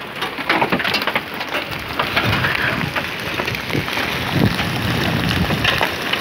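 Heavy rain and hail beat steadily on a surface near a Farmtrac 60 tractor, a dense, continuous patter with scattered sharper impacts throughout.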